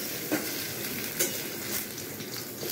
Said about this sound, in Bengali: এটাকে একটু ভেজে নিই